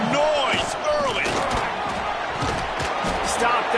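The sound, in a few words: football stadium crowd cheering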